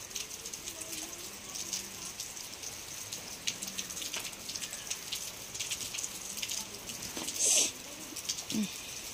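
Steady rain falls on a residential spot, a dense even patter of drops filling the scene, with a brief louder knock near the end and a faint voice in the background.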